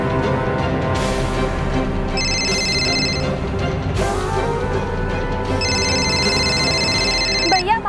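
A phone ringtone chimes in two bursts over dramatic background music, with a tense mood throughout.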